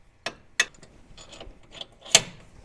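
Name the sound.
tightening winch mounting bolts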